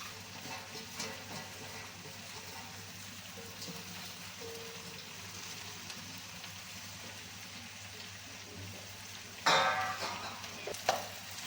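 Vegetable cooking in a pan, giving a quiet steady sizzle with occasional stirring clicks and a louder scraping burst of the spoon toward the end.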